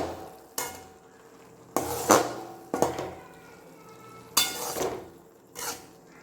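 Bread masala, with roasted cut bread pieces added, stirred in a pan: five or six separate clattering scrapes of a spoon against the pan, spaced irregularly, over a quiet background with faint sizzling.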